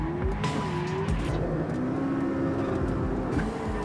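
A McLaren P1 sports car with 916 horsepower on a race track, its engine revving hard with shifting pitch and tire noise, loud and close with no talk.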